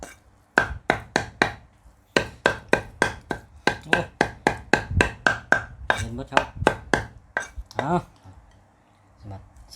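Rapid, steady knife chops on a board as beef is chopped for laab, a long run of sharp impacts with brief pauses, close and fairly loud, with some faint talking in the background.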